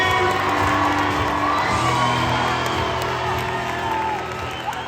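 A high school gym crowd at a winter convocation cheering for the unified basketball and cheer teams, a loud sustained roar of shouts, whoops and some clapping that eases slightly toward the end.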